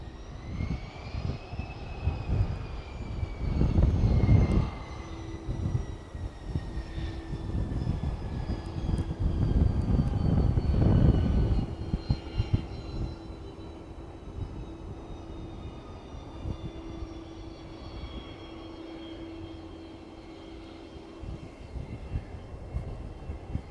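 A jet aircraft at East Midlands Airport rumbles at a distance while lining up on the runway, its whining engine tone slowly descending, low roar swelling and fading.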